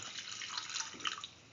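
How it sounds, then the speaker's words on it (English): Water poured into a cooking pan while making a yam, chayote and yogurt dish: a short, quiet trickling splash lasting about a second and a half, with no talk. "Put in 50 ml of water."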